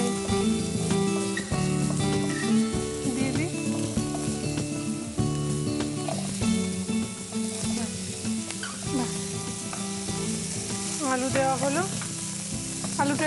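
Onions and potatoes frying in a pan on a kitchen stove, steady sizzle with stirring scrapes and clinks, along with background music and brief voices.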